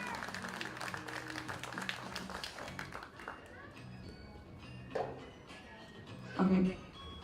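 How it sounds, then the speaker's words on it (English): Audience applause at a police K9 demonstration event, a burst of steady clapping from a crowd outdoors that fades after a few seconds, followed by quieter ambient sounds and short bumps. "Give him a round of applause, good boy."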